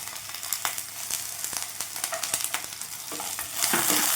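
Fox nuts (makhana) roast in a pan over a low flame, with a constant close dry sizzle and frequent light rattling taps as they are stirred, growing slightly louder toward the end.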